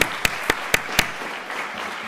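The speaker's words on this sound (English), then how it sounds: "So join me in giving our board a round of applause" At a school board meeting, a few sharp, evenly spaced claps ring out about four times a second, then fade into faint scattered clapping against a quiet room.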